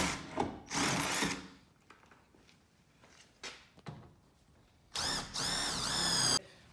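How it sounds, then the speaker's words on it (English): A power drill boring holes for rivet nuts during prep work on a compact car, with a couple of short whining bursts of drilling separated by quiet pauses, handling clunks and rustles, ending in a longer high-pitched drilling run. "So now we got that drilled."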